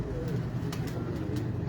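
Pigeons cooing close by, soft low repeated coos layered over one another in a short steady stretch, with no talk.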